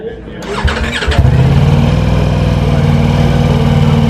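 A Ducati V4 Superleggera motorcycle engine cranks with a whirring starter, catches, then settles into a loud, steady, throbbing idle close by.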